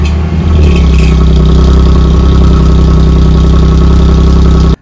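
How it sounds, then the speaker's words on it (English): A supercharged V6 Audi S4 rumbles loudly through its exhaust on a cold start, a deep steady idle close by that cuts off abruptly at the end, with no talking. "So every cold start in the morning, you're gonna hear this car rumble."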